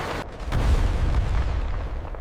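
A deep, rumbling rock-blasting explosion in a gold mine booms out, followed by a low rolling roar that fades over a couple of seconds.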